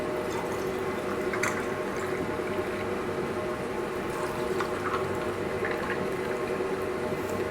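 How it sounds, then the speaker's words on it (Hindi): Water poured into a mango squash drink over ice, a steady close rushing and bubbling liquid sound that runs unbroken throughout, with no voices. "इसमें हम पानी डालेंगे। हम हस्बे ज़रूरत पानी शामिल करेंगे।"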